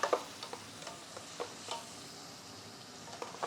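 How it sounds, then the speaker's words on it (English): Onion, garlic, chili and seasoned chicken sizzle in a pot while being stirred, with a soft steady crackle and scattered light clicks and scrapes, fairly quiet and close. "you can hear that pot starting to sizzle now."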